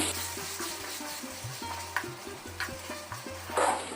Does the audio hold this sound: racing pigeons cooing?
no